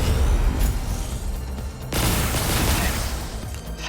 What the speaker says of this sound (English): Sentry gun, firing squad.